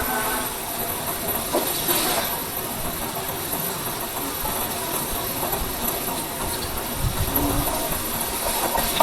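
Crushed garlic frying in a little oil in a pan for pizza sauce, a steady broadband sizzling hiss that stays fairly loud and unbroken throughout, with no talking.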